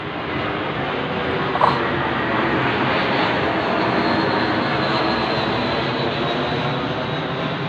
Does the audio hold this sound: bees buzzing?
no